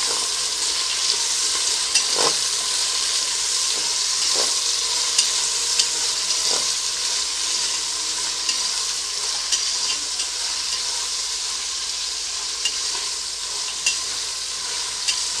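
Vegetables, potato and field beans sizzle steadily in a pan for vegetable pulao, with a spoon scraping and clicking against the pan every couple of seconds as they are stirred.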